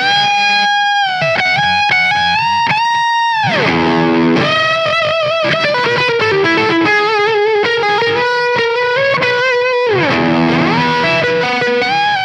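Thick, psychedelic fuzz-meets-distortion guitar tone from a Pigtronix Philosopher's Tone pedal, heard alone as loud sustained lead lines with bends, slides and held notes, no talking.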